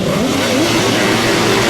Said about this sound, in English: They're revving up on the line then for this race number 13